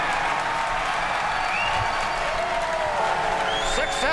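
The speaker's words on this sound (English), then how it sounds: "if you can hear me over the cheering." A large crowd cheers and applauds loudly and continuously as Falcon Heavy side boosters separate during the Arabsat 6A launch, a dense wash of clapping and shouting with occasional whistles rising above it.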